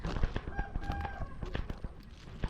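Village birds in a home yard, with rooster crowing and clucking fowl calling in short bursts amid sharp knocks and scattered noises, close and moderately loud with no talking.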